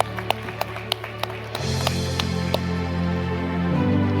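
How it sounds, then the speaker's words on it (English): Scattered claps at an awards ceremony on stage swell into fuller audience applause, first a few distinct spaced claps, then a steady crowd sound with a music bed beneath. "Let's clap for them, I say."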